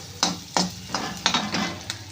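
Onion sizzles with turmeric in a hot pan while a utensil stirs it in several distinct scraping strokes, close and fairly loud, with no talking.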